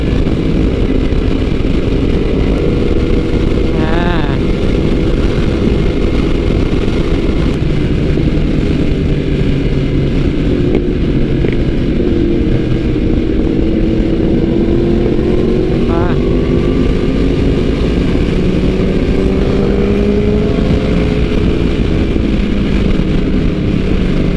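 Sustained engine roar from motorcycles, including a Yamaha R1M, riding together on a group trip near Saraburi, loud and steady throughout with gear changes and shifting pitch.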